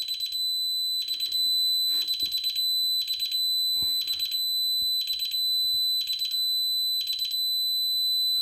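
A home security alarm system sounds a high-pitched electronic beep in a steady repeating pattern, about one burst per second, loud and close with no talking.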